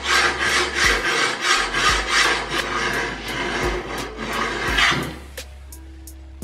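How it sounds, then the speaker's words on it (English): A hand file rasps along a homemade steel sword blade in steady back-and-forth strokes. The scraping is close and rhythmic, with an occasional soft knock between strokes before it stops near the end. "But now comes the fun part of just taking a file"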